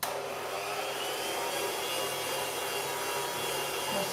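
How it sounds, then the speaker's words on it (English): Old 1970s hand whisk creaming butter and sugars in a bowl, a continuous close whirring and scraping hum that stays steady throughout. "Got my hand whisk from the 1970s, it's very old, it still works."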